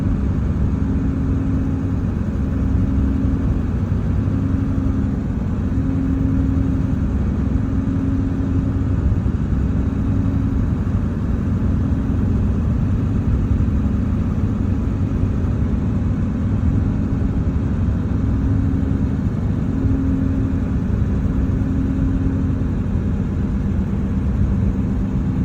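A 2000 Ford F250 with a 7.3 Powerstroke diesel cruises at 45 mph. It gives a loud, continuous engine drone and road rumble heard close up from inside the cab, unbroken for the whole stretch.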